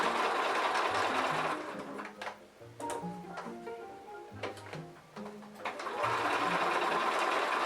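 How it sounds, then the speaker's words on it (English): Sewing machine stitching pocket flaps together, close and fairly loud, running in a fast whirring rattle, pausing and restarting in short bursts through the middle before a final steady run. "And now I'm stitching together all of the pocket flaps."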